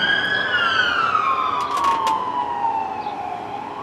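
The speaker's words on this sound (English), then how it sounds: "Ambulance just went by, and there went a cop." An ambulance siren wails, sweeping slowly up and down as it passes nearby, steady and fairly loud above low traffic rumble.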